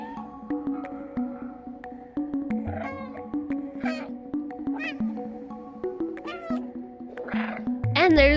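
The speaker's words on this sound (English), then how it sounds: "there is press B to meow" A cat meowing in the video game Stray: several short, clear meows of varying pitch and length, close and prominent, spaced over a soft sustained musical background.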